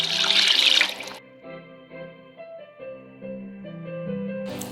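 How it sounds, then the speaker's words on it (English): A brief, bright gush of water splashes into a pot of African pepper soup for about a second, then stops while music carries on. "Add in a cup of water."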